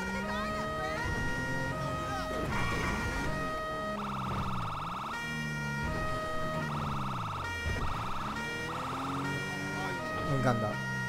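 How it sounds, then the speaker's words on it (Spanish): A police siren from the LSPDFR police mod for GTA V wails in repeated rising and falling sweeps, switching between slow wail and faster yelp patterns, loud and close, with other game sounds underneath. "Escuchar el sonido de la sirena."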